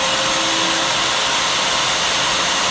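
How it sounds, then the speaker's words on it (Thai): A shop vacuum hooked up to start automatically with a power saw roars in a continuous, loud, steady whine throughout, close by with no pauses. "ก็เลยเสียบเครื่องดูดฝุ่นเป็นออโต้ไปเลยนะครับคือ ใช้กับเครื่องเลื่อยเมื่อเปิดเครื่องเครื่องดูดฝุ่นก็จะดูดอัตโนมัติไปเลย"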